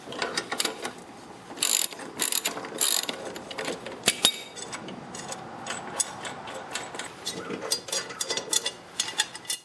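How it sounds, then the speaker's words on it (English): A hand ratchet with a 9/16 socket works a Craftsman lawnmower's blade bolt loose, sounding as a string of fast, close metallic clicking bursts with short pauses between strokes and no one talking. "If you don't, then you can use a ratchet with a 9/16 socket."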